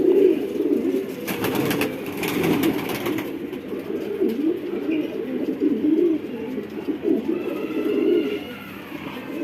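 Pigeons coo in low, rolling calls that continue steadily throughout, near and moderately loud, with a brief burst of broadband rustling early on, likely wing flaps or movement.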